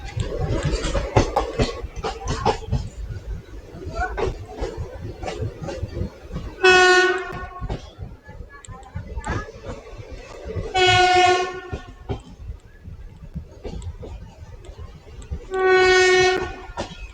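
A passenger train on the Rajkot–Veraval line pulls out of Junagadh station in light rain, sounding three loud, long horn blasts spaced several seconds apart over a steady rolling rumble of the carriages.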